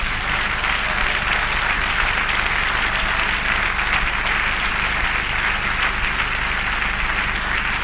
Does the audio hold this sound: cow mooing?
no